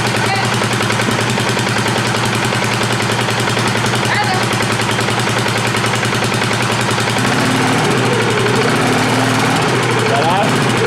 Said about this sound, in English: Give it a little rev. Let's see what the clutch does.